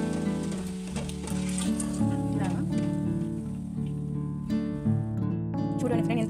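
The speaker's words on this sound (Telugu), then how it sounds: "చూసారా మనం గులాబ్ జాములు ఎలా వేగుతున్నాయో అలాగనే వేసుకోవాలి." Gulab jamun frying in hot oil, a steady bubbling sizzle heard close up under a prominent melodic background of music.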